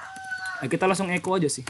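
A chicken clucks in the background behind someone speaking, with a short burst of clucking before and under his voice at moderate loudness.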